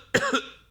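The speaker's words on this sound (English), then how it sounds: "Now coughing" Two sharp coughs, close and loud, the first followed by a short wheezy breath, the second cut off at the end.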